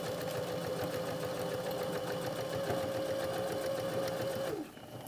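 A sewing machine runs a steady, continuous line of stitching in the ditch along a welt pocket on a jacket, close and loud, with a sustained motor whine that stops near the end.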